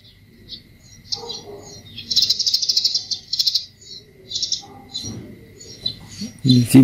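Birds chirp outdoors in short, bright bursts, several calls scattered through a quiet scene, with a couple of low thumps near the end.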